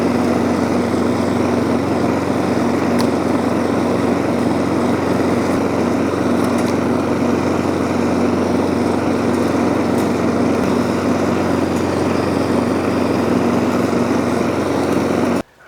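A Stihl RM 453 V petrol lawn mower runs steadily at close range with a constant engine drone, unbroken for the whole stretch and cutting off abruptly at the end.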